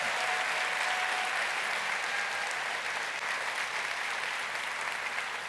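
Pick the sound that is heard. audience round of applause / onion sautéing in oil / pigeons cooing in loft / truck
audience round of applause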